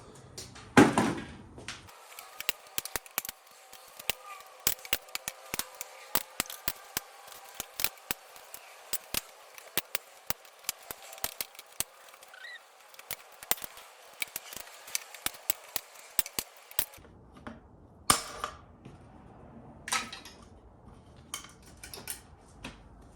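Metal hog rings being pried and snipped off the rear leather seat upholstery of a 1995 Land Cruiser FZJ80, heard as a long string of sharp, close clicks and snaps in irregular rhythm, with a brief pause near the end.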